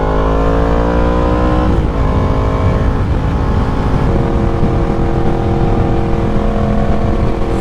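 A 600cc sport bike accelerates hard, its engine note climbing and then dropping sharply at a quick-shifted gear change before pulling up again, loud and close throughout with steady wind rush.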